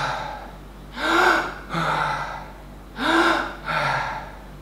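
A freediver does hook-style recovery breathing: two cycles of a sharp, full gasping inhale followed by a softer, audible exhale, close and loud, with no speech.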